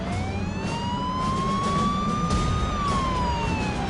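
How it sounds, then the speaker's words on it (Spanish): A police car siren wails continuously, its pitch sweeping slowly up and then falling, loud and near over a steady rumble of road and engine noise. "el coche se nos acercó y encendió la sirena"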